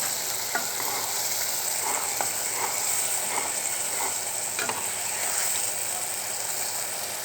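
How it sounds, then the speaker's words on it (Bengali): Keski fish sautéing with spices in a pan, a continuous gentle sizzle punctuated by repeated light clicks and scrapes of stirring, close up and without any voices. "ভালো করে কষিয়ে নেওয়ার পর তারপর ধুয়ে রাখা কেচকি মাছগুলো দিয়ে দেব।"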